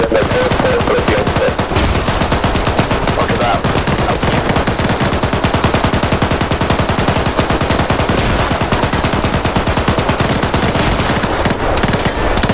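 Sustained automatic gunfire from an Arma 3 firefight in Norway, loud rapid bursts and overlapping volleys hammering continuously throughout with no pauses.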